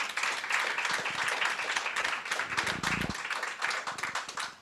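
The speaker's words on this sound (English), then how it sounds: "So please give yourselves a round of applause." A room full of people gives a round of applause at a Western Cape gathering, dense steady clapping from start to finish with a brief louder swell near the middle.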